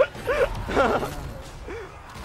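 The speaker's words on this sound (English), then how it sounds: "Like the wolf howl at the end of that one" A short yipping, howl-like canine cry sounds in a League of Legends esports broadcast, a few brief wavering calls heard close over the background noise of the broadcast.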